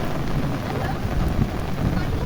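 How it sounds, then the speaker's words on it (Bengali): Steady outdoor rain falls in a dense, even hiss with no breaks, loud and continuous throughout. "তো সবাই বৃষ্টিটা অনুভব করেন, ভালো লাগবে"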